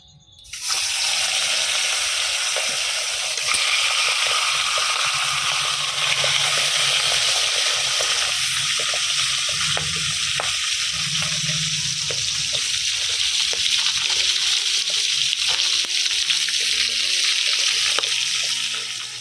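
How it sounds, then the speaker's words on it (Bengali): Rohu fish head frying in hot mustard oil, a steady loud broadband sizzle that runs continuously with faint clinks and stirring underneath, no talking. "তেল গরম হয়ে গেছে, এবারে মাছের মাথা ভেজে নেব।"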